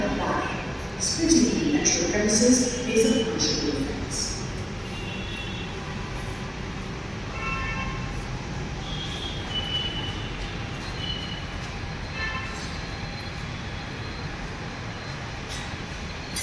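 A steady low rumble of a Pune Metro train idling at a station, with brief metallic squeals early on and people talking over the hum.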